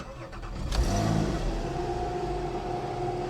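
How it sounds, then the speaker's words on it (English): A Porsche Cayman R PDK mid-engined coupe starts up: a short crank, then the engine catches with a rising rev and settles into a steady, rumbling idle close by. "So I'm going to start it up."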